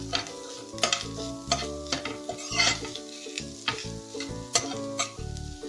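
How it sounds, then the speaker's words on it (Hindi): Vegetable stuffing with mashed potato and coriander leaves being stirred and mixed in a hot pan, brisk repeated scraping and clinking strokes over a soft sizzle, close up and without speech. "और ये धनिया पत्ती भी डाल देंगे इसमें, सब अच्छे से मिक्स कर लेंगे"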